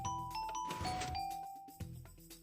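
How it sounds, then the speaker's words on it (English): Redstone-powered doorbell in Minecraft playing a short chime: a few clear, bright tonal notes that ring and overlap, with a burst of block activity in the middle and a faint click near the end. "it activates our doorbell,"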